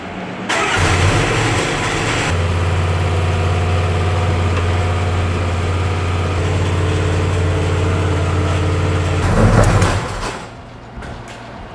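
An engine fires up with a burst, then settles into a steady, loud idle that holds for several seconds before a brief rev near the end and a quieter tail.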